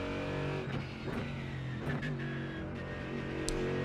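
A GT3 race car engine in iRacing at Road Atlanta gives a steady, moderately loud tone, with a few quick rev blips and gear-like surges and a brief sharp high spike near the end.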